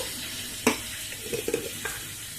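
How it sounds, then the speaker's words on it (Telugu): Sesame seeds and coconut frying in a pan, giving a soft, steady sizzle broken by a few light stirring scrapes and taps close by. "ఈ వేడికే అన్ని నువ్వులు కొబ్బరి అంతా బాగా వేగుతాయి"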